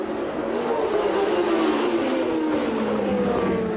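McLaren Formula One race cars of the 1983 season, driven by Niki Lauda and John Watson, scream past close by. A loud, continuous high-revving engine roar rises slowly in pitch throughout.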